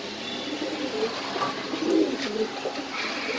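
Ice Bar pigeons coo at a pigeon farm, low soft murmuring calls repeating at a moderate distance over steady background noise, with no voices.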